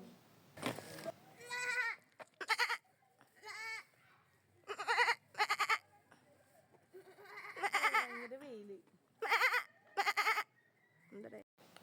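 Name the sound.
person imitating a goat bleat to make a goat turn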